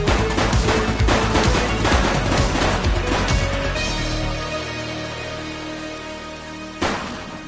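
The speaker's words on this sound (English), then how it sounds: "He's shooting!" Rapid bursts of gunfire in the police video game The Precinct, loud and dense for about four seconds, then a lull with a lingering tone before one more sharp shot near the end.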